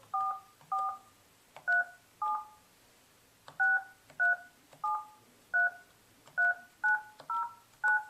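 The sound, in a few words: telephone keypad tones entering activation code on Polycom IP 6000 phone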